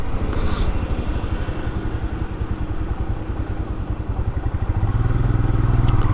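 Royal Enfield Himalayan 411 motorcycle engine running after servicing, a steady close thumping exhaust pulse with a slight rise in pace near the end as throttle is applied, with wind rush over it.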